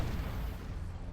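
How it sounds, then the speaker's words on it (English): Space battle in Battlefleet Gothic: Armada 2, with a dense, continuous rumble of small explosions and weapon fire going off everywhere, steady and fairly quiet throughout. "little explosions everywhere"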